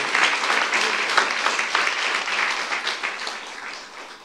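A church youth-service congregation applauds steadily in a dense, sustained wash of clapping that fades slightly toward the end, with no voices over it.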